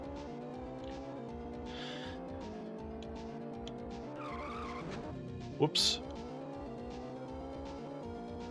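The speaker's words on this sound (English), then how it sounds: "I love digitized engine noises." A racing video game plays a continuous digitized car engine drone that rises and falls in pitch, broken by a brief tire squeal and skid midway, with a short spoken exclamation over it.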